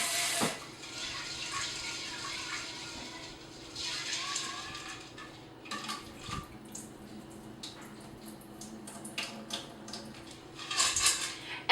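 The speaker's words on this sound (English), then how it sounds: "let's rinse the beans" Tap water runs over beans being rinsed in a steel pot, a soft, uneven splashing broken by faint clinks of metal and a few louder bumps toward the end.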